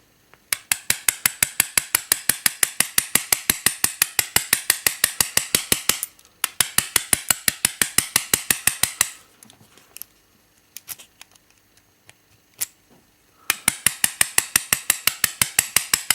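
A bespoke bump key being struck into a lock, close up: long runs of rapid, evenly spaced sharp metallic taps, then a pause with a few scattered clicks as the key is reset, and another fast run of tapping.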